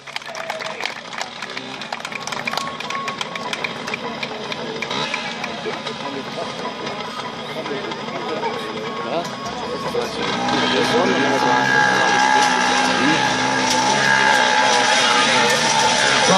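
Two motorcycles ride together inside a small globe of death about five meters across, their engines whining and buzzing continuously under a crowd, growing louder and denser partway through.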